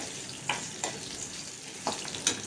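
Dried red chili and tamarind sizzle and fry steadily in a pan for selavu rasam, with a few sharp scrapes and clicks of stirring. The sound is close and fairly quiet, with no voices.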